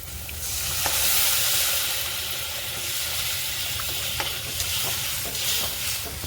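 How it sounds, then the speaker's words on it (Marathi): A loud, steady sizzle and steamy hiss as hot water hits hot spiced masala oil for a fish curry, with occasional stirring clicks throughout. "इकडे मी गरम करायला पाणी ठेवले ते सुद्धा आपण टाकूया पाणी"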